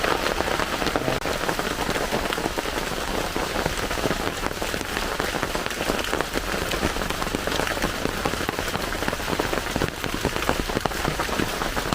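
Steady, heavy rain pours down, drumming continuously on a surface close by, with no pauses.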